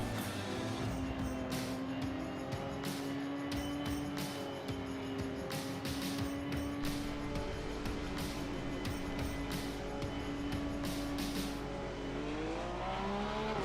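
A race car in Assetto Corsa Competizione drones steadily around Brands Hatch, its engine note holding fairly level and then climbing near the end, fairly quiet and continuous.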